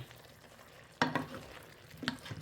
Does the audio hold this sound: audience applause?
no